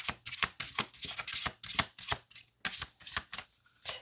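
Tarot cards are shuffled in a series of quick, crisp riffling bursts separated by short pauses, close and clear with no talking.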